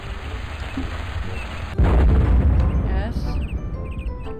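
A loud, booming explosion in Yono and the Celestial Elephants, starting abruptly and rumbling on with crackling debris and a few chiming game tones afterward, while a person speaks briefly.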